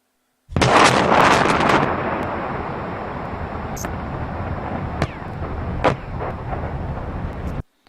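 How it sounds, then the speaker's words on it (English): A big explosion plays back from a video, booming out, followed by a long rumbling roar that tails off over several seconds, with a few sharp cracks along the way. "Let's watch that video of the explosion one more time"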